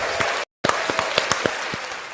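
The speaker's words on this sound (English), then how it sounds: "that right there deserves a round of applause" At an Oconee, SC community meeting, a short burst of applause from a room of people is loud and close, with individual claps standing out, cut by a brief silent gap.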